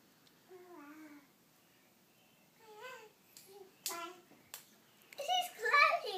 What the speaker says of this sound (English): He's clapping and cheering.